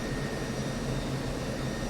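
An F-16 in the DCS flight simulator with its air brakes deployed, giving a steady, even jet engine roar and rushing air that holds level throughout, with no voices over it.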